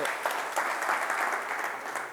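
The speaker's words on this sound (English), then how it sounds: "applause for Magi" Steady applause from a conference audience, a brief, even burst of many hands clapping at moderate distance for about two seconds, without speech on top.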